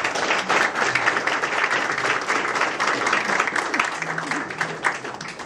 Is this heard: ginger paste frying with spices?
no